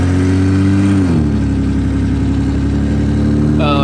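A BMW E30 fitted with a five-lug swap and coilovers rolls along at low speed, its steady engine drone loud and close from inside the car, with the pitch shifting slightly as it moves.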